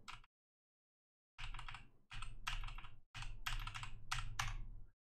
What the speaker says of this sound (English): Type debit number.